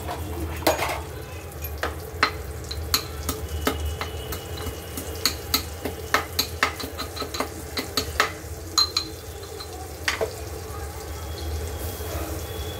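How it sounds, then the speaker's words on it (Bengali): Garlic sizzles gently in butter in a pan while a utensil stirs, clicking and scraping against the metal in an irregular rhythm. "রসুনটা একটুখানি বাটারে ভাজা ভাজা করবো।"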